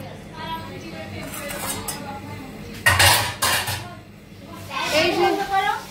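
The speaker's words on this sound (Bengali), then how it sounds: "এই যে আমরা এখন দুপুরের খাবার খাচ্ছি" Steel plates and cutlery clink and scrape close by during a home lunch of fried fish, okra and egg, with bursts of louder clatter while adults and someone talk over it.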